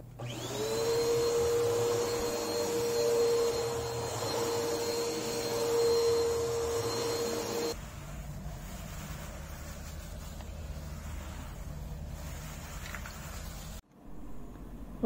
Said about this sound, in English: fluff up the grass with a quick vacuum